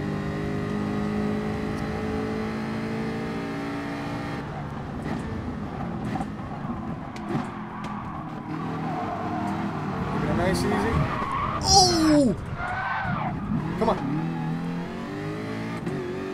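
Race cars in GT Sport skid and slide off track during a daily online race, engines revving and tires squealing in a dense, continuous stretch, with a player talking excitedly over the action throughout.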